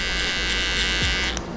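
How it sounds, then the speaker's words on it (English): Electric hair trimmer buzzing steadily and close up throughout, a continuous bright whine with a brief pitch dip near the end as it moves through hair. "As I'm going with the trimmer, I take it all out."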